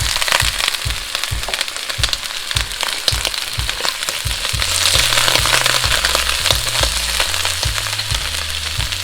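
Baby corn sizzles hard in hot sesame oil in a wok, a loud constant frying hiss with crackles, while rhythmic knocks of stirring and scraping beat along under it, close up and with no talking.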